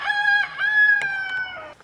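A single rooster crows nearby, one long drawn-out call that rises and holds before trailing off.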